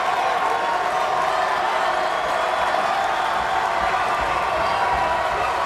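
Crowd at a college basketball game in an NAIA national tournament quarterfinal, producing a steady, dense roar of cheering and clapping from a large arena audience, sustained and fairly loud throughout.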